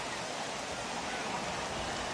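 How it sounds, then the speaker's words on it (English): Heavy rain in a baseball video game, a steady hiss of downpour filling the whole stretch evenly at moderate level, with no voices over it. "Well, that rain is really coming down right now."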